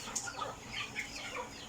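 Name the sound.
broiler chickens clucking on a farm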